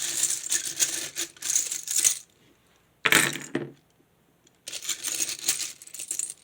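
Shells handled for a tarot reading, clattering and rattling in loud, bright bursts of small hard clicks, broken by brief pauses, close and with no talk.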